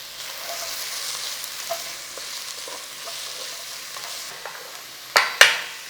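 Onions frying in a pan for a palak chicken curry give a soft, even sizzle throughout, then two sharp clatters near the end, with no voices.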